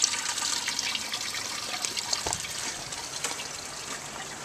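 Water runs continuously through the return hose of a hydroponic NFT flood-and-drain system, a steady close trickling gush with no talking.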